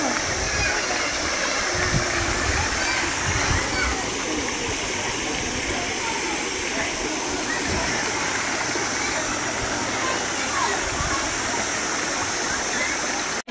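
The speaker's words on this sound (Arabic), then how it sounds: "سمعوا الصوت ديال الماء" Water rushes steadily down a valley stream close by at a riverside eatery, with a constant loud splashing flow and brief muffled sounds of people beneath it.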